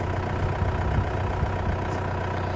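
A farm tractor engine runs steadily at a low, even rumble, close and constant with no talk over it.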